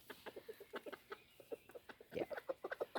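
A rooster clucks in short, repeated bursts while being offered a Brussels sprout, the clucks close and fairly loud, quickening into a denser run of calls near the end.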